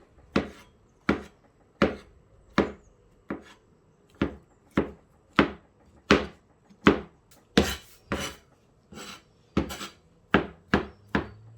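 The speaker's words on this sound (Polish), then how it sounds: "kurki kroję na dość duże kawałki" A knife chops chanterelle mushrooms into fairly large pieces on a cutting board, about sixteen sharp close knocks in a steady, slightly uneven rhythm with no talking.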